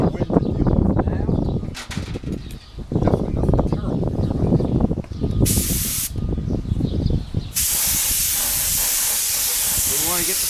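A spray gun lays clear coat onto Bimota motorcycle fairings outdoors in a light wind, giving steady bursts of broad hiss with short pauses and a long unbroken final pass, close and loud, with someone talking at times between passes.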